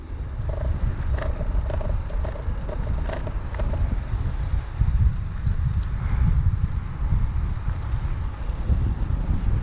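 Wind blows hard across the microphone outdoors during a ride, a loud, continuous low roar and buffeting from start to finish.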